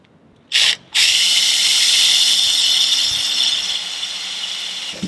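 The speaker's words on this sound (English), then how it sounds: "Got these holes drilled out now." Power drill boring holes for Bimini fittings on a boat, a short trigger pulse followed by a sustained close whine that gradually slows toward the end.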